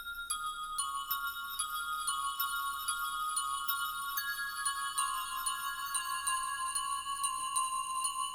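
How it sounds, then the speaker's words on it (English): A bright bell synth patch from Nexus plays a MIDI melody, chiming ringing notes that sustain and overlap in a steady rhythm, clean and alone with no talking. "Next we got this bell from Nexus."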